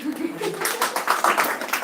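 An audience at a Hindi-language exam-preparation class gives a short burst of clapping, a quick run of overlapping claps close by under a speaking voice.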